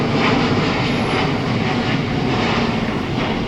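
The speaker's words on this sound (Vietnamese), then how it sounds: "Và bây giờ máy bay đang cất cánh hướng về sân bay Nội Bài," A Vietnam Airlines Airbus A350-900 takes off toward Hanoi, its jet engines producing a loud, sustained broadband roar that stays steady throughout.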